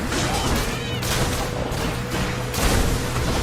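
Explosions and combat effects from the action game Hades form a dense, continuous wash of crackling blasts and impacts, loud throughout with a heavier surge near the end.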